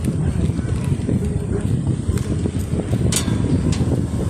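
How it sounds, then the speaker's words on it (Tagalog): Strong wind buffets the microphone in a constant low roaring rumble, loud and close, with a few brief rustles and knocks, at an overlook on a quarry road in Binangonan, Rizal. "Hangin talaga dito guys. Sobrang hangin."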